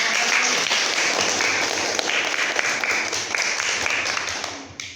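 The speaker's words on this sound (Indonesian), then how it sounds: "Berikan aplaus untuk peserta." A room of people applauding a participant in a classroom-style event, dense steady clapping that carries loudly throughout and fades off at the very end.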